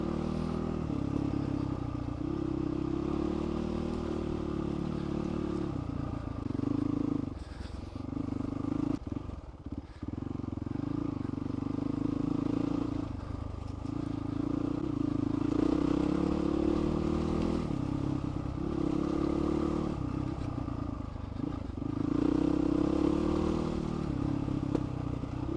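Off-road vehicle crawling down a slippery dirt track in the Paluma Range in first and second gear, a steady low engine drone with clattering and scraping over bumps, close and continuous throughout.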